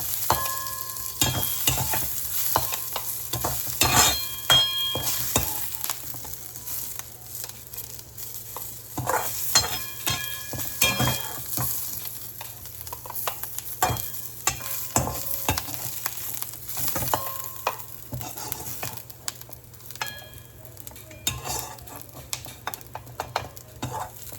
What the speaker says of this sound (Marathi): आता आपल्याला याला गोल्डन आणि ब्राऊन होईपर्यंत छान असं याला भाजू द्यायचं.